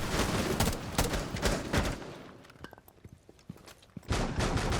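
Rapid automatic gunfire from Jaeger in the tactical shooter Rainbow Six Siege, dense bursts of shots, loud and close, pausing briefly with scattered single shots before another heavy burst.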